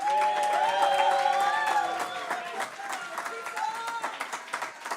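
Audience applause at a year-end church gathering, a dense patter of clapping with scattered cheers and whoops. Voices call out over it, the clapping steady and close before easing slightly in the second half.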